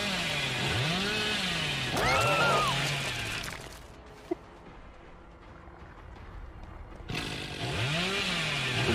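Chainsaw revving in Dead by Daylight, a loud buzzing roar with rising and falling pitch sweeps that cuts out for a few seconds, then starts up again near the end, with no talking.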